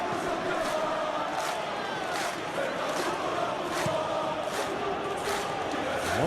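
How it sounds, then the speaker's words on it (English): A large stadium crowd roars and cheers in a PES football video game match between PSG and Girona, a dense sustained wall of noise with regular rhythmic chanting swells. "Well, the crowd clearly like what they just saw."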